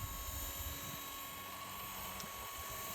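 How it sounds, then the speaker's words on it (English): A faint, steady whirring hum of a Blade 230S radio-controlled helicopter's spinning rotor in flight, continuous with slight pulsing and a thin high whine. "I get a wobble with this helicopter in the air sometimes"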